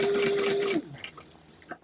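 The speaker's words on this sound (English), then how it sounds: "take it back to the sewing machine, and this time sew it at 1/2 inch to sew all of this together" Sewing machine stitching purse panels at a half-inch seam, a brief steady whir that stops abruptly, followed by a few soft clicks and handling noises nearby.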